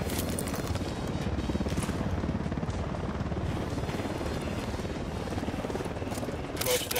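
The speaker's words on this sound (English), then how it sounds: "Drone is airborne." A surveillance drone flying in the video game Ghost Recon Wildlands gives off a steady whirring, buzzing hum throughout, continuous and fairly near, with faint game sounds over it.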